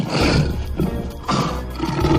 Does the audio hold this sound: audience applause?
no